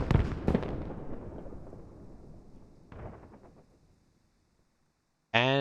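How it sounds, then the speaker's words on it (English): A tank destroys a BMP in the video game Squad, heard as a loud close explosion that rumbles away, a second smaller blast, then quiet before a voice cuts in. "Tank takes out the BMP."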